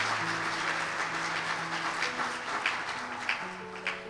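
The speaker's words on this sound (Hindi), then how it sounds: "जोरदार तालियां बजाएं खुदा के लिए।" A church congregation applauds at a worship service, a broad, sustained patter of many hands heard at a moderate distance, with sustained musical tones running underneath and a few sharper claps near the end.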